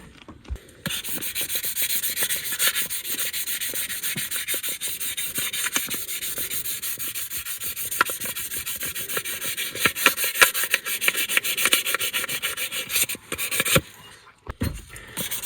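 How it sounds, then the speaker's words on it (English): Sanding a 1:64 die-cast Chevy Tahoe car body by hand: continuous close scratchy rubbing strokes over about fifteen seconds, steady and fairly loud, with no talking. "I'm gonna go ahead and sand this, get it all nice"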